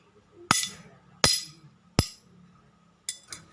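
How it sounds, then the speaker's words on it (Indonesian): An empty glass perfume bottle is struck repeatedly, giving three evenly spaced bright clinks followed by two quicker lighter taps, close and clear over a quiet room. "sekarang ibu akan memukul botol bekas minyak wangi"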